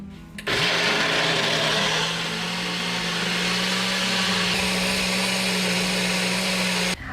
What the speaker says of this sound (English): All right, let's blend her up.